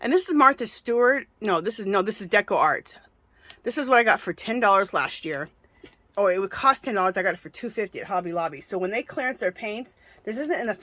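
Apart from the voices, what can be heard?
No everyday noises stand out.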